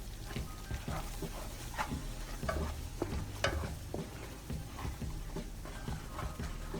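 Flour is stirred and roasted in hot ghee in a pan, giving a soft continuous sizzle broken by irregular scraping and stirring clicks, fairly quiet and close with no talking.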